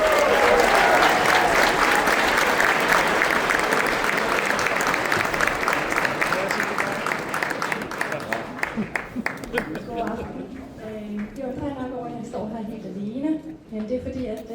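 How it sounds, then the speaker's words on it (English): Loud audience applause fills the room, many hands clapping steadily before fading into scattered claps and a voice beginning to speak near the end. "please give a big round of applause to our first act"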